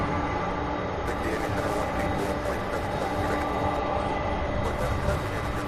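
Jet airliner engines roar steadily at an airport as a Boeing 767 readies for takeoff with an Airbus A300 on the taxiway, a loud, continuous broadband rumble and whine that fills the whole stretch without pause.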